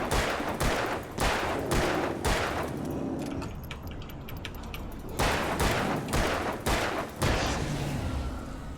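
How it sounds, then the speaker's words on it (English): A burst of loud, rapid gunfire in the video game Alan Wake, sharp repeated shots in two volleys separated by a brief lull, with clattering game effects in between. "Maybe I should just shoot him with the flare gun."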